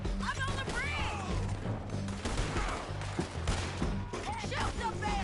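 Gunfire in Red Dead Redemption 2 rings out as scattered shots and impacts in a loud, busy firefight, with game voices and shouting running through the clip.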